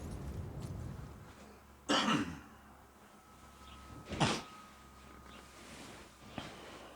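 Two separate coughs, a few seconds apart, loud against a quiet background hum, with a faint third cough near the end.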